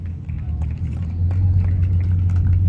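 A sports car engine idles at a car show with a deep, steady rumble and low hum nearby, growing slightly louder midway, with faint outdoor bustle in the background.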